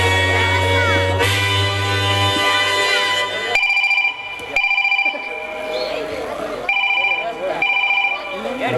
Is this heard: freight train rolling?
no